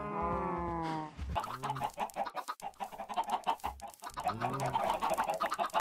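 A Minecraft chicken gives a drawn-out squawk, then a run of rapid clucks and cackles close to the microphone, continuing steadily with a few louder calls.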